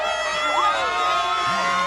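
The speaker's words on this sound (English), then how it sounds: "What a crowd!" A packed football stadium crowd at a high school playoff game roars and cheers continuously, a loud dense wall of voices with shrill whoops and sustained tones layered over it.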